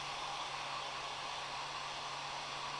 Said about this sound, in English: Let's blow dry some barnacles.